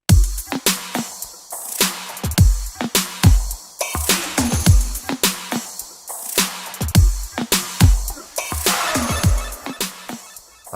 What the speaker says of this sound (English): Once you add the main kick and snare, the hook drums sound like this.